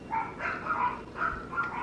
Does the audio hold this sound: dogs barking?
yes